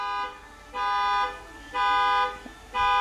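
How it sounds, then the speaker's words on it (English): Car horn sounding outside near a home, three sustained toots in an even rhythm, each about half a second long with short gaps between them, moderately loud and with no talk over it. "Who's beeping a horn?"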